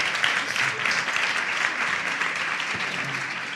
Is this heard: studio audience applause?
yes